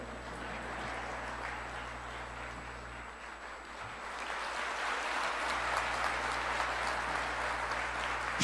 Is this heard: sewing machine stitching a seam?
no